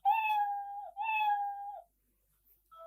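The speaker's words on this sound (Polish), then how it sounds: "Bardzo proszę, oto kotek." A cat meows twice, clear and close, each call drawn out for nearly a second, followed by a short pause and a faint brief sound.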